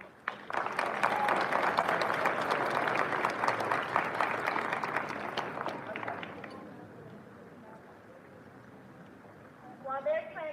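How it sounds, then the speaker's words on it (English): An audience gives teachers a round of applause at a school welcome event, a loud burst of clapping for about six seconds that fades out, followed by quieter room noise and a brief voice at the end. "let's just give them another round of applause"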